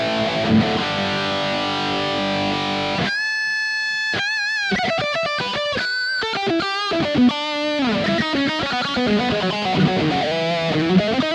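Distorted electric guitar played through a Kemper profile of a Friedman BE 100 amp, starting with a sustained chord, then a loud, close run of choppy riffs and single-note lines with no talk.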